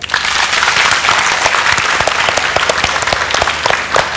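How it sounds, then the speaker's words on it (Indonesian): Loud, dense applause from a studio audience for a guest named Joe on a health talk show. It fills the whole stretch at an even level, with no voices over it. "beri tepuk tangan untuk Joe."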